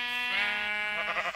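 A sheep in Minecraft gives one sustained, wavering bleat up close, loud and clear with no talk over it.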